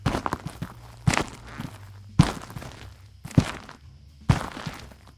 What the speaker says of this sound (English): How are you making your footsteps so loud?